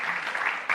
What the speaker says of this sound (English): Can we get a round of applause for Troy, the real Tom Cruise.